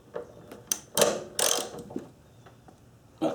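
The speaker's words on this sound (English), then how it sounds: "leave it in place and just loosen up the fasteners on top of the shock tower" Ratchet wrench working on the large 17 mm fasteners atop a car's shock tower, a few sharp clicking bursts separated by pauses, close and moderately quiet.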